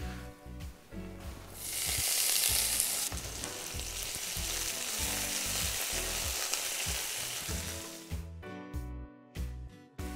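Food sizzles loudly in hot oil in a pan, a dense continuous frying hiss with brief stirring and clinking heard up close, fading to quieter crackles near the end.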